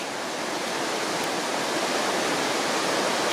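River water rushes in a loud, dense, unbroken roar, close and steady with no voices over it.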